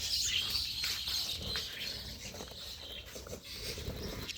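Small pet birds chirping in an outdoor aviary holding about six pairs of new adult birds; thin high twittering runs steadily throughout, close and fairly loud, with light rustling and wing flutter underneath and no talk.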